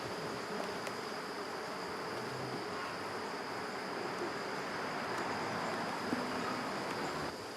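Honeybees hum around an opened experimental backyard hive in a soft, steady, close buzz that holds evenly throughout, with no voices.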